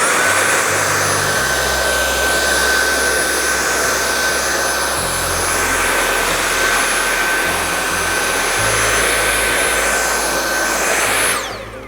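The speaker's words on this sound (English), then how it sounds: "then we'll work our way to the maximum suction." A Dyson V8 cordless vacuum cleaner runs at maximum suction with a loud, steady, high-pitched whine and airy roar that holds throughout, with shifts in the low hum, then cuts off at the end.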